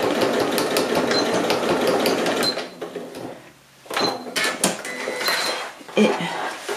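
A sewing machine stitches fabric for a reusable tote bag, running in fast rapid bursts, stopping briefly in the middle, then starting again with short stop-start runs, close and loud.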